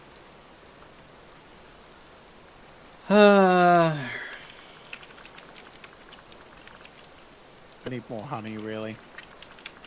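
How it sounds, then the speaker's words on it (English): Rain falling in the survival building game Vintage Story: a steady, soft hiss of continuous downpour throughout, with a person's voice talking briefly over it twice. "Now, let me see if the rain's working."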